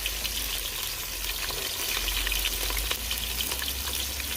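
Onion and peppers frying in a pan, a steady close sizzle that stays loud and even throughout with faint stirring scrapes and no talk.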